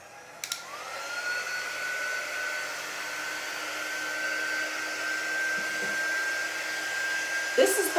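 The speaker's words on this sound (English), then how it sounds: "I'm just using my heat gun." A heat gun blows hot air steadily and continuously over a craft project of lacy candle garters, a close, even whooshing drone with brief clicks at the start and end.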